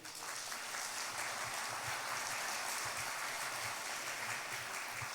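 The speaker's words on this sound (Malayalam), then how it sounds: "ഒന്ന് കൈ ഉയർത്തി കൈയടിച്ചേ" Clapping from a church congregation with raised hands, a broad, faint, continuous patter that holds at an even level throughout.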